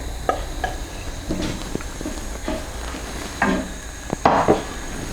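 A spoon stirs base gravy into a simmering chicken vindaloo curry in a pan, giving scattered scraping and clinking strokes with soft bubbling beneath, moderately close and without talk.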